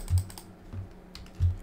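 Computer keyboard keys tapped while copying and pasting Arduino code, a few close, soft clicks and thumps spaced unevenly over under two seconds.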